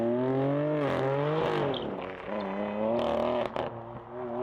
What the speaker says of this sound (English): That's when the turbos kicked in.